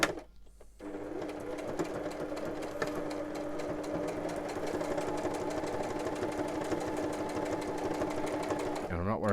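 A domestic sewing machine runs a straight stitch on fabric for a pocket, a steady close whirring hum with rapid mechanical ticking that starts after a brief pause and continues evenly to the end, with no voices.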